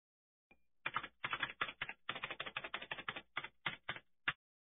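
Brisk typing on a keyboard, a run of clicky keystrokes in irregular bursts after a brief pause, close and clear with no voices.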